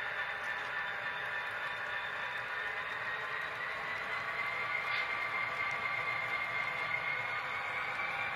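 A Union Pacific model train with a caboose running behind the locomotive on a test run gives a steady, faint rolling rumble and whir on the rails, continuous throughout.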